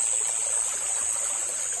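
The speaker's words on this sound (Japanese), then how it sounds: "夜の川に来てます。" A river flowing at night in Okinawa, heard as a steady, even rush of water that holds on without a break, with a fainter continuous high hiss running over it the whole time.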